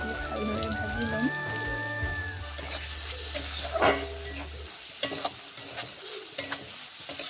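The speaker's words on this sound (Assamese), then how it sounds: "ইয়াতে মই বিলাহীখিনি দি ভালদৰে ভাজি ল'ম" Ginger, garlic and tomato fry in oil with a steady low sizzle and occasional stirring scrapes and clicks, close up, over a faint tonal hum in the first half.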